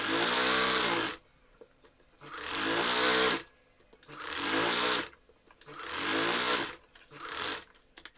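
Sewing machine stitching a corner of fabric while making puff sleeves, four close bursts of rapid mechanical whirring, each a second or so long, separated by short quiet pauses.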